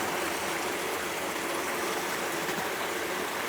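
Water pours steadily into a tank, a continuous close rushing and trickling wash that holds an even level throughout, with no voices.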